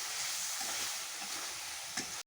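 Beef sizzling in hot oil in a wok while being stirred, a continuous bright frying hiss with faint scraping, steady throughout.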